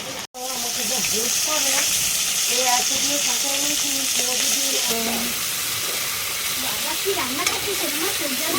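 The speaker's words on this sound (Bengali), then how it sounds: "একদম সরু সরু করে আলু ভাজা কেটে আলু ভাজা রান্না হচ্ছে" Thin strips of potato fry and sizzle steadily in hot oil for a side dish, a continuous close hiss with stirring, while someone talks over it throughout.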